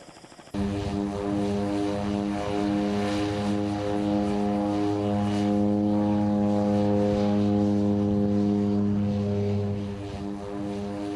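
A propeller seaplane flying between St. Thomas and St. Croix, a loud steady droning engine with strong harmonic hum heard from inside or close by, beginning abruptly and holding constant throughout.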